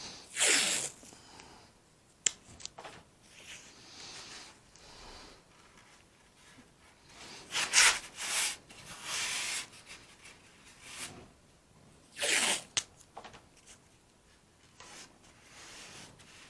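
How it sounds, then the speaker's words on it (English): Adhesive tape is peeled off a roll in several quick, rasping tears and pressed down onto a workpiece during a model build, with soft rubbing and faint handling noises between the louder pulls. "So I'm going to tape this down."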